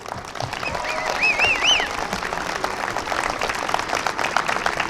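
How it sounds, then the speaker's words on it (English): Crowd applause at a Little League opening day ceremony, a steady wash of many hands clapping outdoors for the teachers, with a few high whistles and cheers rising over it, sustained and moderately loud throughout. "So let's give a big round of applause to your teachers."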